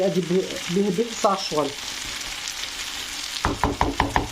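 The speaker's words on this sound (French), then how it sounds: "Je voulais le faire à la" Sliced potatoes for a gratin fry in a pan with a continuous sizzle. Near the end, a quick series of sharp clatters from stirring or scraping breaks in.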